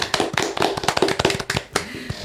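A small group claps in uneven, close-up hand claps at a school automotive technology competition, a brief, scattered round of applause with a few voices faintly mixed in.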